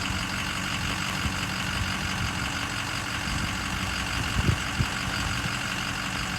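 Steady idle from a 2007 Ford F-450 dump truck's 6.0L Powerstroke turbo diesel, a continuous close rumble and hiss with a couple of brief knocks near the end.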